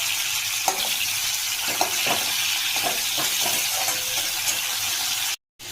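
Tomatoes tossed into hot oil in a pan for a dal, giving a steady loud sizzle and frying hiss with occasional stirring scrapes, ending with a brief cut to silence.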